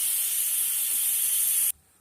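A pressure cooker on a gas stove, cooking chori (cowpea) curry, releasing a loud, steady hiss of steam that cuts off abruptly near the end.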